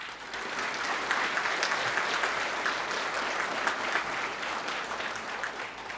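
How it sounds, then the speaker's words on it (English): A crowd at the Wilkes County 10th Annual Hall of Fame Gala in 2024 claps steadily and loudly, a dense continuous round of applause from a large audience that lasts the whole stretch. "please join me in a round of applause"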